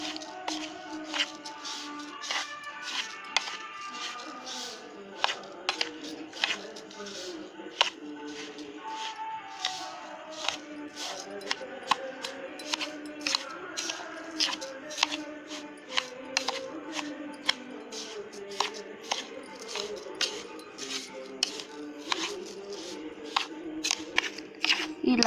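Dry grated coconut, sesame seeds and semolina being mixed by hand in a bowl for palli kajjikayalu, giving soft repeated rustling and gritty crackles with frequent small clicks, close by and steady throughout.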